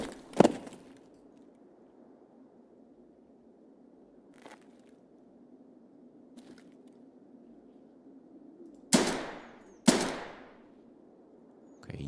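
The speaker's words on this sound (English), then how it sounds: "Okay, I've heard the shots." Gunshots in the PvE mode of the video game Escape From Tarkov: a sharp shot at the start, a faint distant crack in the middle, then two loud close reports near the end over a quiet, steady ambient hum.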